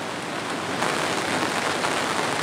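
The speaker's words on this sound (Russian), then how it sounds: "у нас пошел дождь" Rain falls steadily on an open-air vegetable garden in the evening, a dense, even hiss of drops on surfaces that holds constant throughout with no voices.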